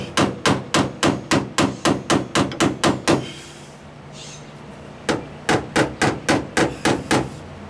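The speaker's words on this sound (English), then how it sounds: "Not hitting it hard, just putting down the high spot." Rapid, evenly spaced light hammer taps knocking down a high spot on a dented metal panel, about a dozen blows, a short pause, then another quick run of taps, close by.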